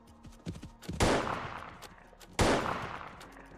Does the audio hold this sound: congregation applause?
no